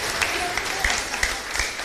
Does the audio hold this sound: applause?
yes